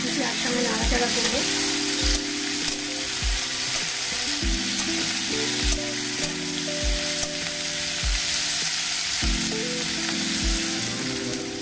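Diced potatoes, onions and green chillies fry in a pan with a steady, close sizzle. Soft rhythmic stirring knocks sit under sustained tonal background music.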